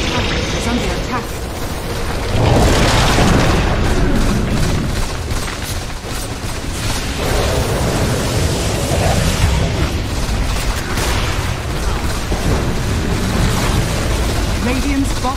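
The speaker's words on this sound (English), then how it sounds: "Radiant's bottom tower has fallen." Dota 2 tower collapsing with heavy booming rumbles and crumbling destruction amid ongoing battle noise, while an announcer voice speaks.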